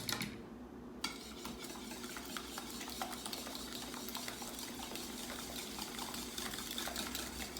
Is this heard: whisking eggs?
yes